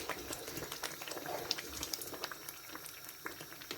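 Suji halwa boils and bubbles in a pan, producing a steady stream of soft pops and spatters that stay close but faint.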